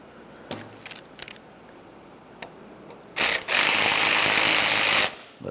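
Rapid ratchet clicking tightening bolts on the steering column shift tube of a 2001-2005 Ford Explorer Sport Trac, loud, close and sustained for about two seconds after a few faint, scattered clicks and taps.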